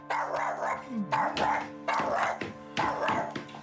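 A dog barks repeatedly up close in a Hindi-dubbed drama scene, several loud bursts in an uneven rhythm over a sustained background tone.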